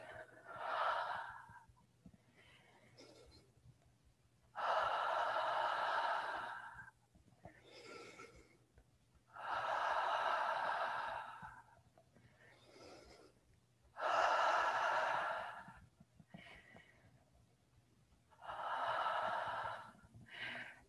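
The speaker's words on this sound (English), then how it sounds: "Exhale with the ha sound." During a qigong breathing exercise, a person gives five slow, breathy exhales with an open 'ha' sound, evenly spaced and close to the microphone, with quiet inhales between them.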